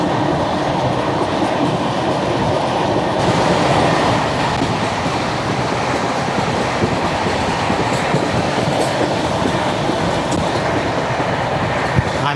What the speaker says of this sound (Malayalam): പോർബന്ദർ എക്സ്പ്രസ് ആയിരുന്നു.